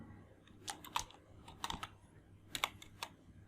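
A computer keyboard clicks in short quiet bursts of keystrokes, several groups of taps with pauses between them, close and soft, while entering data into an Excel table.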